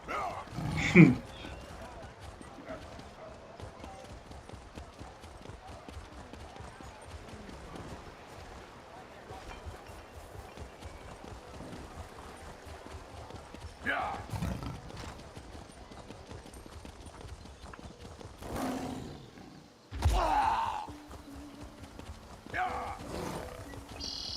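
Horse hooves clip-clop steadily on a road in The Elder Scrolls game, a rhythmic patter running through the scene beneath game sounds and occasional talk.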